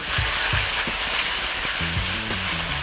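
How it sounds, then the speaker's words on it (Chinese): Shredded pork hitting an oiled, hot wok, giving a steady loud sizzle with a few short clanks and stirring scrapes, with no talking. "好，加点凉油润一下，直接下入肉丝。"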